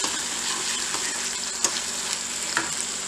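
Sautéed onion and capsicum sizzle steadily in a pan as they are stirred, with a constant frying hiss and a few soft scrapes, close and even, no voices.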